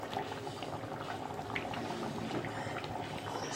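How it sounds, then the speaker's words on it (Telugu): A pot of Andhra fish curry, chepala pulusu with okra, at a steady rolling boil. The bubbling and popping is close and continuous, with a dense, uneven texture and no voices. "మరుగుతుంది, మంచి స్మెల్ వస్తుందండి"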